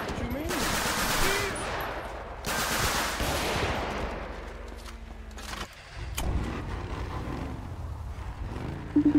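Gunfire in a GTA roleplay game: two bursts of rapid shots ring out close and loud, then a vehicle engine hum and scattered mechanical clicks follow, with faint voices in the mix.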